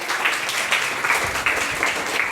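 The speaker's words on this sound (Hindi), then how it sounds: "प्लीज़ गिव हिम और हर बिग हैंड प्लीज़, जोरदार तालियां उनके लिए।" Students clapping together in a classroom session on memory enhancement, a steady, dense patter of hands filling the room with no pauses.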